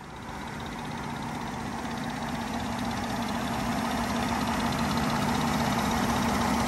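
Cadillac DTS with a Northstar V8 idling with the hood open, a steady, even engine hum heard close by, fairly quiet and continuous throughout with no talking.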